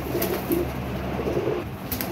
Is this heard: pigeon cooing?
yes